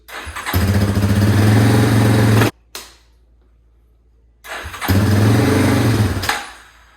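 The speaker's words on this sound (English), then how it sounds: "It's out of fuel. But it runs, so we got spark back." Yamaha Warrior ATV engine after a stator replacement fires up and revs loudly for about two seconds, cuts out, then restarts and runs roughly again before dying as it runs out of fuel.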